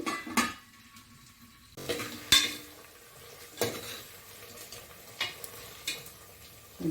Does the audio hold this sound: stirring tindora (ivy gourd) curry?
yes